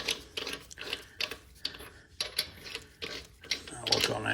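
Ratchet clicking as lug nuts are tightened on a 2019 Ram 1500 Bighorn wheel, in quick bursts of rapid pawl ticks separated by short pauses, close and fairly loud.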